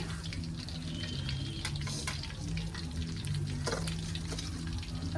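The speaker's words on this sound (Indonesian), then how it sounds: "Delok gorenge." Food frying in a pan gives a steady, close sizzle with occasional clinks and stirring, running continuously the whole time with no talking.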